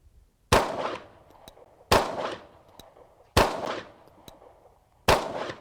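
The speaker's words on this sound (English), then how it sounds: "I'm going to shoot the main bowling pin, number 5 in the middle." Four loud, sharp gunshots at an outdoor range, fired at a bowling pin target, each spaced about a second and a half apart with a short ringing decay and faint clicks between shots.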